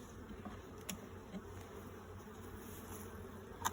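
Honey bees buzz at an open hive in a faint, steady drone, with a few brief sharper buzzes from bees passing close by.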